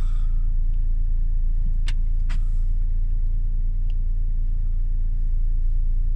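A Fiat Croma idles after being started in a parking lot, its engine a loud, steady low rumble with a couple of brief sharp clicks early on and no revving.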